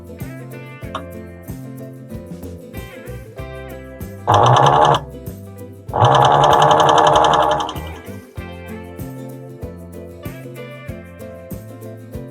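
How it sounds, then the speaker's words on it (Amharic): An overlock sewing machine stitching fabric after threading runs in two loud bursts, a short whirring run then a longer one, close and buzzing, over steady background music. "አሁን በቀጥታ ኦቨርሎክ ወደ መምታት እንሄዳለን።"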